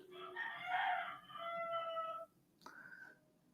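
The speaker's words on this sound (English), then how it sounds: "They got some roosters." A rooster crows loudly and fairly close, one long drawn-out call followed by a shorter, fainter crow.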